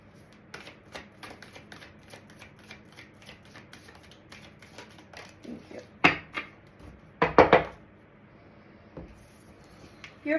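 Tarot cards are shuffled by hand, a close run of quick papery riffles and taps that builds into a few louder flicks and slaps toward the end, with no talking.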